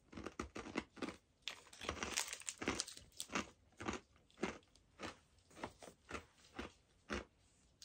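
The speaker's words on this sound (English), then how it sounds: "Oh my god. It is so crunchy. Yep, that's an almond right there." Crisp, crunchy bites and chewing of an almond biscotti close to the mic, a rapid series of sharp cracks followed by steady rhythmic munching.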